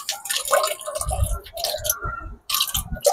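Water falls into an aquarium overflow filter, a close, irregular splashing and gurgling that comes in uneven bursts with brief pauses.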